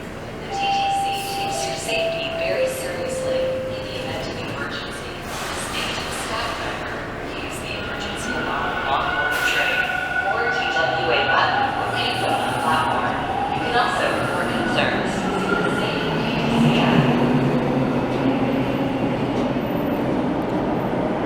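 A Toronto subway train on Line 2 heading toward Kipling, near Castle Frank: a steady, loud rumble of rolling cars with stepped tonal whines and squeals, and faint voices in the background.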